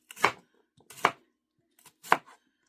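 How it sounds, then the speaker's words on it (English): Small potatoes cut into bite-sized pieces with a knife on a cutting board, three separate crisp thuds spaced about a second apart with quiet in between. "I'm going to go ahead and cut them into bite-sized pieces"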